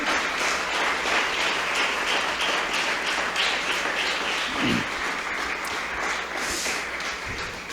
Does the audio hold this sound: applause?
yes